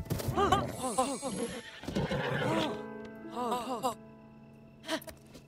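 Repeated loud horse whinnies in a video game with a hint of hoof clip-clop, each neigh rising and trailing off, followed by a short snort.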